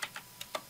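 Four quick, light key presses on a computer keyboard while a PowerShell command is typed, close and clear against a quiet background.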